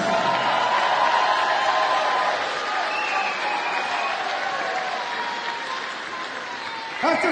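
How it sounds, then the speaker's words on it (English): Arena crowd applauding two fighters after a five-round Kun Khmer main event, a loud sustained wash of clapping and cheering that eases slightly toward the end. "A round of applause for these two fighters."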